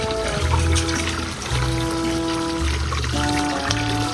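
Water pours steadily in a continuous splashing stream, close by, with faint tonal hum in the background and no talking.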